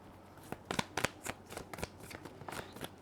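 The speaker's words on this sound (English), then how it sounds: "Let's get some tarot out." Tarot cards shuffled by hand close up, a run of soft riffling and slapping bursts in an uneven rhythm with no voices.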